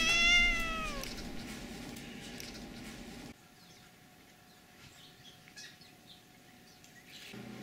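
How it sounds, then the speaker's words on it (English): A neighbor's cat outdoors in a yard gives a faint, drawn-out meow at the start, followed by quiet ambient noise with a few soft distant chirps. "the neighbor's cat's in our yard again"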